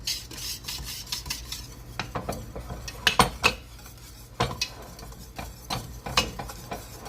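Blackberry pie filling is stirred in a pot over low heat, a spoon scraping and clinking against the pot in irregular strokes, close and moderately loud, alone.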